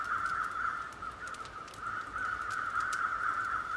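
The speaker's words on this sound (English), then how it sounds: "Man, those crows are loud." Crows from the survival video game The Long Dark make a steady, harsh, raspy racket, with continuous overlapping caws close by and loud over faint wind, and no voices.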